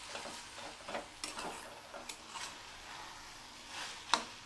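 Okra slices frying with lemon juice are stirred in a pan, making a gentle sizzle with scattered scrapes and clinks from the utensil, close and soft, with no speech.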